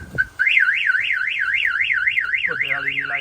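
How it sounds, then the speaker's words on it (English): A 1970 Pontiac LeMans's newly installed car alarm siren wails in a fast, rising-and-falling warble, loud and close, with a brief chirp before it starts and a shift in tone near the end. "Let me go ahead and fire off the alarm so you can hear it."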